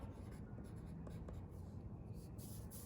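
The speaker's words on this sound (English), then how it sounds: "we're going to use our pencil to do 5 different values with the one pencil" A pencil shades a value scale on paper in soft, steady scratching strokes that run without a break, faint and close.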